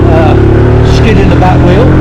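Honda Solo Custom motorcycle engine slowing and shifting down into second gear on a spring ride through the Peak District, a loud, steady engine drone with someone talking over it.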